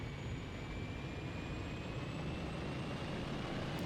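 Steady, continuous jet engine roar of a Lockheed T-33 in Microsoft Flight Simulator, with a faint high whine, holding constant throughout with no voices.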